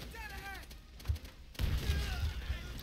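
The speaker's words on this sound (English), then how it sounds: "I'm throwing mortars at people" Mortar explosions in Call of Duty: World at War crack out as a couple of sharp booms, followed by a dense, rumbling barrage of blasts and battle noise, with faint voices near the start.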